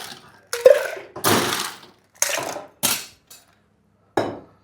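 Ice going into a mixing glass for a Courthouse Martini, a wet martini: several separate loud clattering bursts of cubes rattling against glass, each ending abruptly, with short silences between them.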